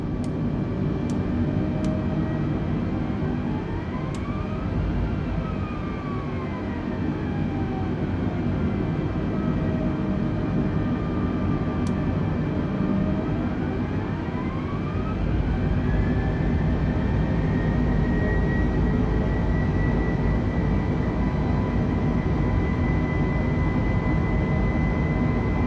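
Airbus A320 jet engines in Microsoft Flight Simulator during a flight from Bradley International to Albany International, a steady loud drone with rising and falling whine tones throughout.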